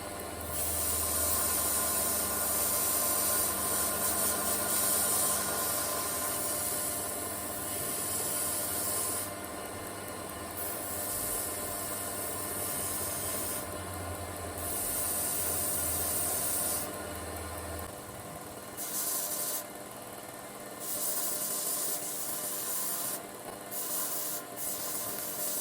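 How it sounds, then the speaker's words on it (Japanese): A belt grinder with a narrow-cut belt polishes and rounds the edges of an all-steel CPM3V Japanese kitchen knife, giving a steady, loud abrasive hiss and rub that runs continuously and dips slightly near the end. "顎も指をかけた時に痛くないように細く切ったベルトで角を取りながら形を崩さず磨いていきます。"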